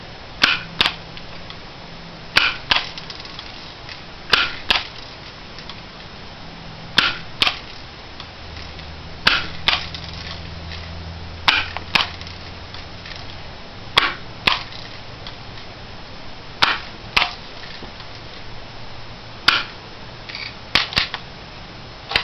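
A Crosman Legacy 1000 air rifle firing BBs, with sharp snappy shots repeating about every two seconds, each followed by a quick mechanical click, close and loud over a steady low background hum, with no talking.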